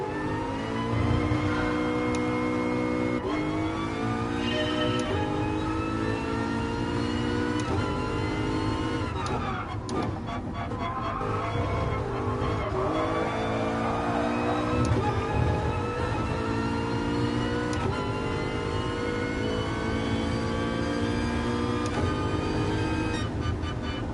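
Race car engine in Gran Turismo Sport, a steady loud drone climbing through the revs with rising and falling harmonic tones over the whole stretch, no voices.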